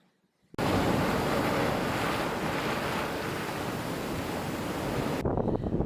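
Ocean waves wash steadily onto a beach at the tide pools, a loud continuous surf roar with wind buffeting the microphone, starting abruptly and holding for several seconds with no talk.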